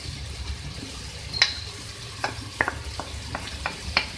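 Beef with tomato and yogurt fries in oil in a pan, giving a low steady sizzle with scattered clicks and taps of a stirring spoon against the pan, close and moderate, no talking.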